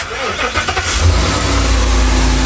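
A 2023 Ace RV engine with about 5,000 miles cranks and catches, then settles into a steady, loud rumbling idle close by.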